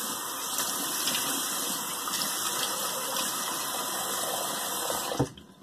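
Tap water runs steadily into a sink while a shaving brush is rinsed of soap and skin residue, a continuous close gush that stops abruptly near the end.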